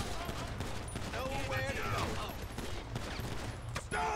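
Rapid bursts of gunfire in GTA 5, continuous crackling shots over game sounds with a few tonal whines.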